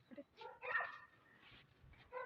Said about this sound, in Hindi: यार कुत्ते काटे ना हमें, इसमें तो भौंक रहे हैं।